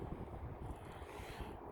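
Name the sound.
wind blowing outdoors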